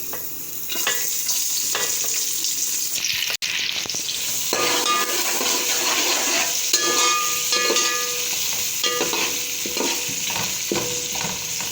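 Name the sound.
onions and chilies frying in oil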